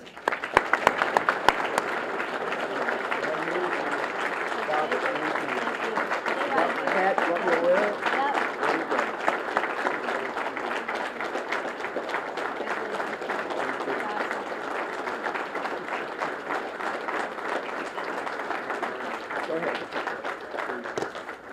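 Sustained, dense audience applause welcomes new head football coach Dino Babers at a university press conference, loud and steady throughout without a break, with the crowd's clapping filling the room.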